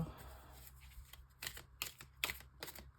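Oracle cards being shuffled for a five-card spread, a few quick riffling bursts of crisp papery slaps close by, with no talking.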